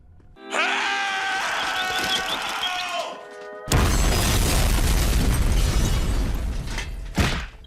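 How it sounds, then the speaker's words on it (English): A cartoon bomb hidden inside Plankton's self-destruct suit explodes with a loud, sustained blast that swells into a broad roaring rumble lasting several seconds and ends in a sharp crack. A shorter tonal cartoon sound comes just before it. "he made the bomb that's inside the suit, the one that exploded"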